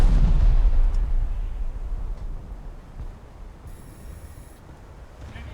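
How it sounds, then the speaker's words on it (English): A heavy boom from the 8-inch guns of the Trento heavy cruiser in a naval battle game opens loud and deep, then rumbles away into a long fading tail with faint distant noise. "Oh, those 8-inch AP rounds just slicing through the Bravi"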